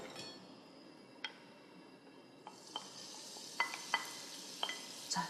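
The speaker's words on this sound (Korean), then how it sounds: "달달달 고소하게 익을 때까지 잘 볶아서 준비를 하고요." Quiet sizzle of seasoned beef and shiitake mushrooms stir-frying in sesame oil in a heavy pot, with light scattered clinks of a utensil against the pan.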